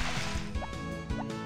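Water splashes repeatedly in Harvest Moon Back To Nature as crops are watered, a few quick liquid pours and splashes in an uneven rhythm, moderately close and fairly quiet.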